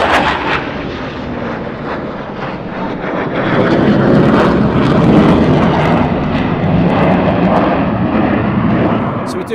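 Military jet aircraft on approach to the runway at RAF Lakenheath during surge operations, a loud, steady engine roar that builds and swells midway, then holds strong before easing slightly at the end.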